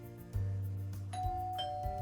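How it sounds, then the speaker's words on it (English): A doorbell rings in the video game Belle Automata, a clear two-tone chime that rings out and decays over music, alone without talk. "I finished cleaning the kitchen when, like clockwork, the doorbell rings."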